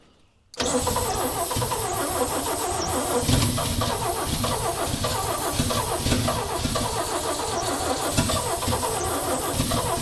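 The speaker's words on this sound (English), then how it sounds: "I need to be able to dump fuel in this and crank it and throttle it" A 1965 Chevy rollback truck engine cranks and catches after a brief silence, then runs loudly and roughly under steady throttle with uneven pulsing, close to the listener.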